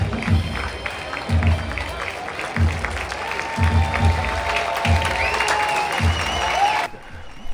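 At a Somerset Patriots minor-league baseball game, the crowd gives pitcher Marcus Stroman a warm hand, a broad wash of distant clapping under stadium noise and periodic low thumps, then cutting off abruptly.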